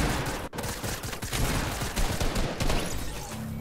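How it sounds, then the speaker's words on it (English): Rapid bursts of gunfire in the Fortnite video game crackle continuously, with one loud sharp shot near the start followed by a dense, fluctuating rattle of shots at moderate distance. "Just ignore the guy shooting at us."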